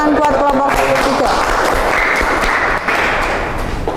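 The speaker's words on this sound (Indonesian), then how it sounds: "Beri tepuk tangan buat kelompok 3." A group applauds a presentation team in a classroom, dense clapping that follows a brief moment of voice, loud and close throughout.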